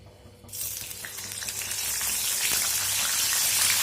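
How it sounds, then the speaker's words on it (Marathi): Curry leaves being rinsed in water, a steady rushing splash that starts abruptly after a brief quiet moment and grows slightly louder and fuller, continuous and close with no talking. "कढीपत्ता धुवून घेते थोडा"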